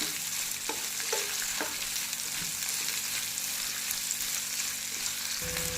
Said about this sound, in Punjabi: ਲਸਣ ਤੇ ਪਿਆਜ਼ ਨੂੰ ਹੁਣ 2 ਮਿੰਟ ਇਹਨਾਂ ਨੂੰ ਪਹਿਲਾਂ ਪਕਾ ਲੈਣਾ